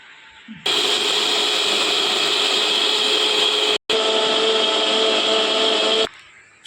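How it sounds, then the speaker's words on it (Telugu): A mixer grinder running at full speed on roasted lentils, a loud steady whine that starts abruptly, cuts out for a split second midway, then runs on before stopping. "ఇలా వేంపిన పప్పులను మనం కాసేపు ఆరబెట్టుకొని మిక్సీ పట్టుకోవాలండి."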